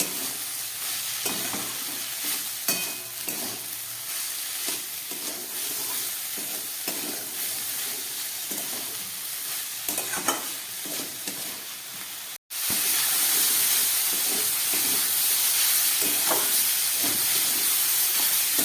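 Broccoli fries in a pan with salt just added, giving a loud, steady close-up sizzle and hiss. Stirring scrapes and clatters through it, and the frying grows louder and denser for the second half.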